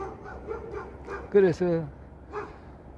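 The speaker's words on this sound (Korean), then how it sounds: "개가 짖어가지고 내가 좀 피해 있는데 되게 짖네" A dog barks repeatedly close by, with a series of short yips followed by two louder barks and another further on, while someone speaks over them.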